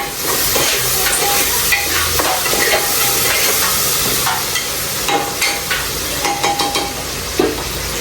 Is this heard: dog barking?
no